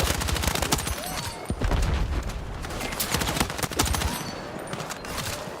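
Gunfire in Battlefield 6, rapid automatic bursts and overlapping shots crackling almost nonstop, loud and close, with heavy low thumps mixed in.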